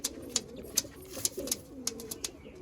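Malwai pigeons cooing nearby, soft low coos repeating in a loose rhythm with sharp wing flaps or clicks between them, no voices.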